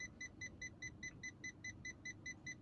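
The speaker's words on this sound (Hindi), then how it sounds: "ये देखिए सुनाई पड़ रहा है beep beep beep beep beep beep." A car's parking sensor gives a steady run of about a dozen short, evenly spaced electronic beeps, each a bright two-tone chirp, heard close and clear over a faint low background rumble.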